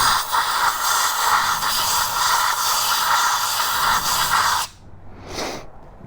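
Compressed air hisses steadily into the spark plug well of a Yamaha Virago XV535 motorcycle, a loud continuous blast that cuts off abruptly, followed by one short, softer puff.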